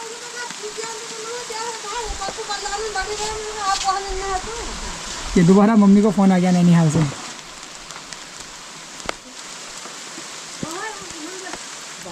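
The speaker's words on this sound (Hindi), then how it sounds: "बाहर तो बारिश वाला मौसम बना हुआ है" Heavy rain falls outside a village home in the hills, a steady broadband hiss running the whole time beneath a person speaking at moderate volume.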